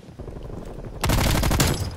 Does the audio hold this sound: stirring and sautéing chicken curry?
no